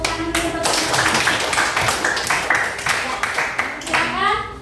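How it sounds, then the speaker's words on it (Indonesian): Dense, steady clapping from a classroom of students fills the room, loud and close, with children's voices talking over it throughout. "Bagus, tepuk tangan dulu untuk."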